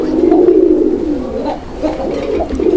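Indian Kagoji pigeons coo nearby in soft, low, throaty calls that repeat several times in a rolling rhythm.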